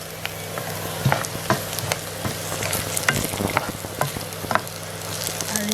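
Fenugreek seeds fry in hot oil for an egg curry, giving a steady close sizzle broken by frequent small crackles and spatters.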